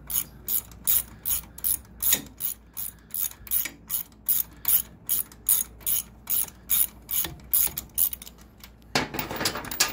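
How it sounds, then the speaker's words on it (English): A ratchet wrench works bolts on a Harley-Davidson Dyna engine mount, giving a steady run of sharp, evenly spaced clicks close to the mic, then a brief burst of rougher scraping at the end. "ratchet jammed up on me"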